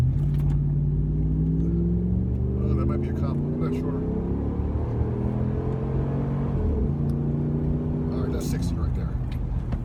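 A 2009 Dodge Ram 1500 pickup accelerating hard from a stop in a 0 to 60 run, its engine rumbling and rising steadily in pitch inside the cab over about ten seconds, with a person speaking over it.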